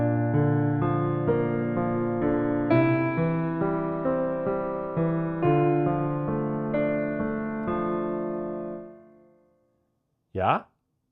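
Piano plays the opening chords of a song in a sustained, ringing progression with fresh chord strikes every second or so. The notes decay into silence, then a brief voice is heard.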